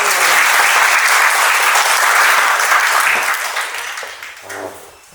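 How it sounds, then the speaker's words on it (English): Audience at a personal interview training session by a Rotary club in a business hotel breaks into loud sustained applause that gradually tapers off toward the end. "Give a big round of applause for the"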